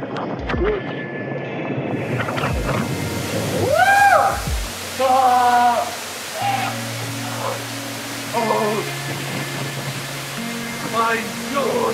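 A waterfall in a river canyon on the Tribuća river roars as a steady, full rush of water throughout, with voices speaking over it.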